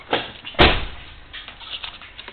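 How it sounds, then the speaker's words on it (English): A car door shuts with a single firm thump, close by, followed by quiet. "I close the door."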